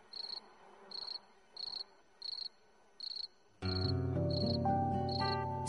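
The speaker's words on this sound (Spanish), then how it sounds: "el grillo comenzó a cantar nuevamente sus melodías de amor" Cricket chirping in evenly spaced bursts, five clear trills of steady rhythm, then music enters and continues under the last chirps.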